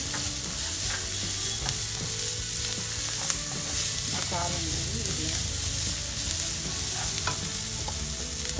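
Onions and green chillies sizzle and fry steadily in a pan with curry leaves for a capsicum curry with dal, a continuous close hiss with scattered stirring scrapes throughout.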